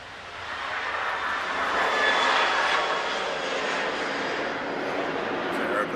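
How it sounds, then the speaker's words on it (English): A plane takes off from Cardiff Airport, its engine roar building into a broad, loud, sustained rush that swells over several seconds and holds steady, with no voices. "Aeroplane just taking off from Cardiff Airport."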